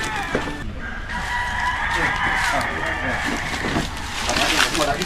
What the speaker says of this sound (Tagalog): Ito ng manok.